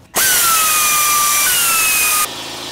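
A cordless power tool whines at high speed while loosening a 12 mm alternator bolt on a Subaru engine, one loud close burst of about two seconds that drops in pitch slightly partway through, then winds down.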